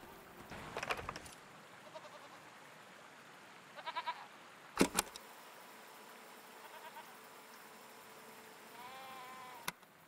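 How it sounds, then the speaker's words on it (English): Goat-like creatures in the video game Season: A Letter to the Future give short, wavering bleats, faint and at a distance. The bleats are spaced across a quiet outdoor ambience, with a few soft clicks and knocks between them. "What are these strange goat-like creatures? Are they simply goats?"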